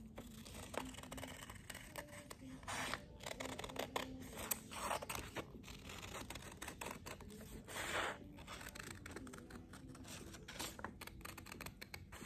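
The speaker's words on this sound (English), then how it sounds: "And I cut my shape out so that I have a pattern to trace" Scissors cut a paper pattern template, giving a string of quiet, close snips and crisp paper rustles spread unevenly over several seconds.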